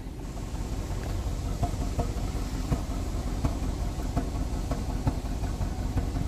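A car engine that had not run for a long time idles rough and uneven after a PCM replacement, with irregular knocks and stumbles over a steady low drone, close by and alone without speech.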